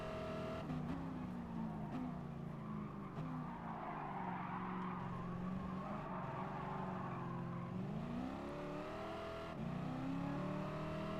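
Racing cars in Gran Turismo Sport at a nostalgic car festival event, engines droning and revving steadily with shifting pitch, tires squealing and skidding throughout, loud and continuous with no talk.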